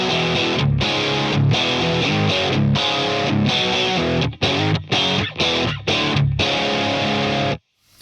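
Electric guitar riffing through a Headrush pedalboard with two amps, two cabs, reverb, echo and graphic EQ, loud distorted chords in a driving rhythm with short choppy breaks before cutting off abruptly.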